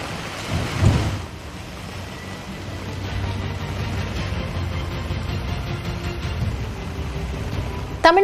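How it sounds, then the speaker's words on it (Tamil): Heavy rain pours steadily in Chennai, with a deep thunder rumble early on and a continuous broadband hiss of downpour throughout, ending in a brief sharp burst. "வள்ளுவர் கோட்டம், நுங்கம்பாக்கம், கோடம்பாக்கம் உள்ளிட்ட பகுதிகளில் கனமழை கொட்டியது."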